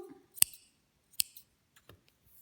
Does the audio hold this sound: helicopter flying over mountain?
no